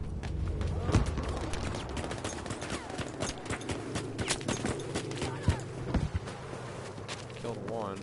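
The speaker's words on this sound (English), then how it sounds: "Goddamn snipers are pinning us down." Sniper fire and gunfire crackle through a busy video game battle, with sharp repeated shots over a constant rumble of combat noise. Voices talk over the fighting.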